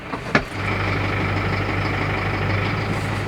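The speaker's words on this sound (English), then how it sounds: "this is a tractor from Massey Ferguson here on long-term demo" A Massey Ferguson general-purpose tractor idles close by with a steady, low, even engine drone, preceded by a brief knock just before the hum settles in.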